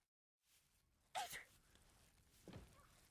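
A single sharp sneeze from a character in the video game Kingdom Come: Deliverance 2, loud and close, followed a moment later by a softer low vocal sound, with quiet game ambience throughout.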